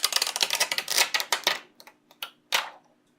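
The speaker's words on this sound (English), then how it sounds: "So we take off the bottom protective tape" Protective tape being peeled from a Samsung Galaxy Core Prime SM-G361 replacement digitizer: a dense run of rapid crackling rips for about a second and a half, then a few sharp, isolated tearing snaps, close and clear with no talking.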